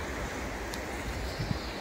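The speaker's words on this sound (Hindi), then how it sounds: "यहाँ पर जो तेज पानी है उसकी आवाज ही चलते हुए की सुनाई देगी" Floodwater of the Ganges at Haridwar, swollen by heavy rain, rushes in a loud, steady roar with no break, heard from nearby and with no voices over it.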